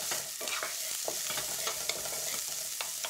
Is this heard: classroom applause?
no